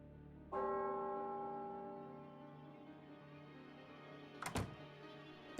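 In The Hardy Boys: The Hidden Theft video game, a gong is struck once and rings with a bright, sustained tone that fades slowly. A short clunk follows near the end.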